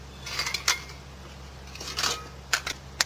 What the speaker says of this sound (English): We can put our lid back on